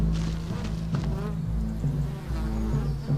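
Bees buzzing around a hive in a tree, a close, wavering insect drone that swells and dips in loudness, with no one talking.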